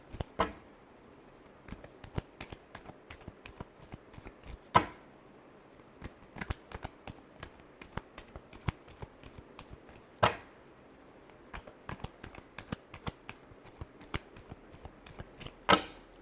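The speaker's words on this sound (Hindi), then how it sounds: "Last shuffle." Tarot cards are shuffled by hand in a quiet room: a faint, irregular run of soft riffling clicks and slaps, with a few sharper snaps spaced several seconds apart and no talking.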